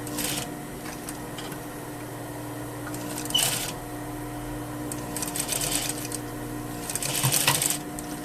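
A sewing machine hums at a steady pace, stitching a bias-cut flap for a double welt pocket, with a few brief clicks and rustles over the continuous close whir.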